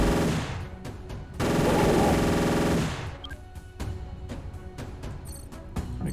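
Mech weapons in Mech Armada open fire in a dense, loud sustained burst lasting over a second, followed by scattered sharper shots and impacts that trail off into quieter ambience.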